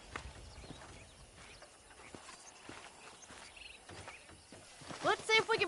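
Horse hooves in Red Dead Redemption clip-clop at a walking pace under ambient outdoor noise, with a louder chiming, tonal sound rising near the end.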